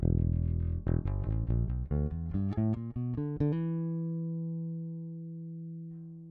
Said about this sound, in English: here's what the bass sounds like straight into the DAW